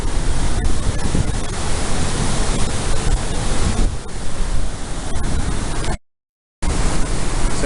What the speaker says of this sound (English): I don't think I've ever been this close to water this powerful before.